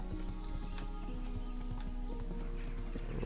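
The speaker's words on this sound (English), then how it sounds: "So on major roads, at the very least, you can get your horse to auto ride." Horse hooves clip-clopping at a steady riding pace in the video game Kingdom Come: Deliverance, close and continuous over a faint ambient background, with a brief whinny.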